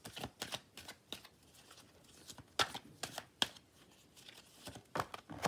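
Tarot cards shuffled by hand for a final draw, with a run of soft riffling flutters broken by several sharper card snaps, close up and fairly quiet, with no talking.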